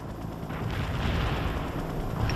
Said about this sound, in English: Firing mortars. The barrage will reach you soon.